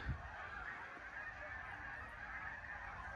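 Canada geese honking in a steady, continuous chorus, distant and fairly faint, blending into an outdoor background wash.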